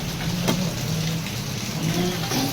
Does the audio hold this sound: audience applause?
no